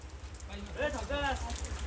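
Rain patters steadily on a surface at a farmhouse, a soft, continuous hiss beneath people talking close by.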